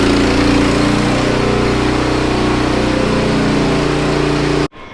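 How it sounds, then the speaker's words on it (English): A water pump runs steadily beside an overflowing manure pit, giving a loud, even engine-like drone with low harmonic hum that continues without pause and then cuts off abruptly near the end. "It's a little loud because we've got a pump running"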